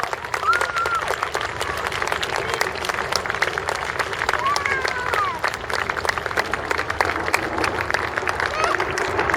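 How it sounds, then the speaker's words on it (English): A large outdoor crowd at the Sunderland Air Show gives sustained applause during a Red Arrows display, dense continuous clapping that carries through with a voice talking over it. "Could I please have a big round of applause with some patriotic red, white and blue for Her Majesty the Queen and Great Britain."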